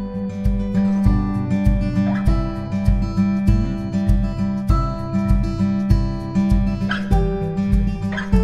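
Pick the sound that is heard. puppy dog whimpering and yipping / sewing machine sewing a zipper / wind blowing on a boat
puppy dog whimpering and yipping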